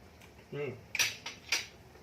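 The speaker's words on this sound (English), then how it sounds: "Let's get a spoon." A spoon and dishes clink together while sauce is being tasted in a home kitchen. A brief voice comes first, then three light, close metallic taps.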